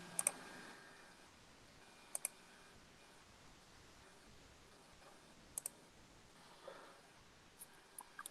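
Computer mouse clicks at a desk during a screen-sharing session, heard as a few sharp, quiet clicks, some in quick doubles, spread across a near-silent room tone.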